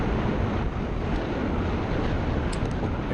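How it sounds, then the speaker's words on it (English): Steady, loud buffeting wind rumble on the microphone outdoors at a bicycle criterium race, a continuous dense roar with no voices. "you can hear that wind"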